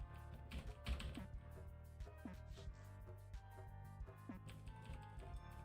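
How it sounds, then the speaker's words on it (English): Rapid mouse-button clicks fire a weapon in an indie game-jam game, a steady stream of light, quick taps close by over a constant backdrop of game music. "Clicking to fire, like right now I'm spamming the button. You can probably hear it."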